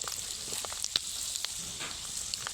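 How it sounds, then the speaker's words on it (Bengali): Peanuts frying in hot oil for homemade dal chanachur, a quiet steady sizzle with scattered sharp crackles and pops, faint and close with no talking. "বাদাম ভাজার সময় কিন্তু একটা আওয়াজ হবে চুরচুর করে"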